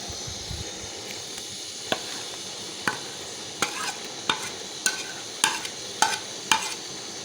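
Ground onions frying in ghee in a kadai for mutton kofta curry: a soft continuous sizzle broken by a regular series of sharp spoon-stirring knocks that grow louder toward the end.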